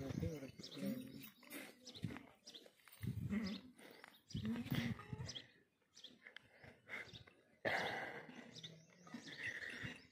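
Goats bleat among a group including seven kids and a large adult doe, their calls mixed with close conversation that runs through most of the stretch, with a brighter, louder burst near the end.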